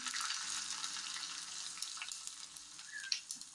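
Mustard seeds, cumin, green chillies and dried red chillies temper in hot oil with asafoetida, a soft steady sizzle with scattered crackling pops and a light clink near the end, quiet and close, no talking.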